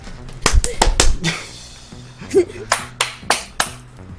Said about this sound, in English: Everybody clap! Clap at home!